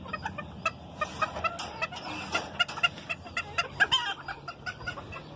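Chickens and roosters cluck repeatedly in a farmyard, a steady stream of close, sharp clucks with occasional crowing, busy and fairly loud throughout with no talking.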